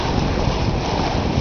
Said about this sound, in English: Wind is still steady, blowing 15, 18 knots, something like that.